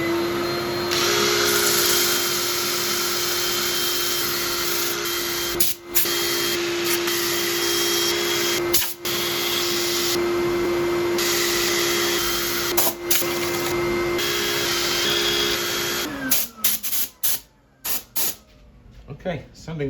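A spalted elm burl being sanded on a woodturning lathe gives a loud, continuous whirring hiss with a steady motor hum, then stops abruptly and clatters near the end.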